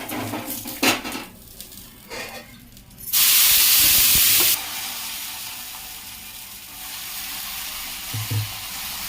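Batter for a soft bread dosa goes onto a hot pan with metal scraping and clinks, then a loud burst of sizzling and steam hisses for about a second and a half before settling into a steady low frying hiss.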